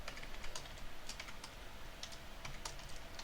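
Quiet keystrokes on a computer keyboard come in short irregular bursts of clicks while code is typed, faint and close with no talking.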